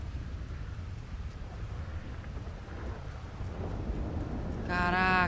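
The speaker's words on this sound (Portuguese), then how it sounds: "Tá chovendo demais" Heavy rain pours with rumbling thunder in a zombie mode of the video game GTA 5 on an aircraft carrier, a continuous, steady wash that swells slightly, and a tonal electronic sound cuts in near the end.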